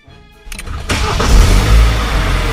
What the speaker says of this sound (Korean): 아, 너무 일발 시동이야.